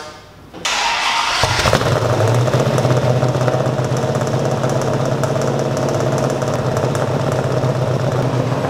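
A 1970 Dodge Challenger R/T clone's engine cranks briefly and then catches, jumping to a loud, rough, steady roar that holds for the remaining seconds, close up and alone.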